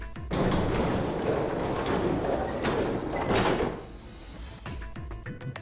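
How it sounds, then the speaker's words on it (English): A heavy metal gate is pushed open in the video game Zero Escape: 999, giving a long, loud scraping groan that swells and then eases off, followed by a few lighter clanks as it settles. "On Junpei's signal, they both pushed and the gate creaked open."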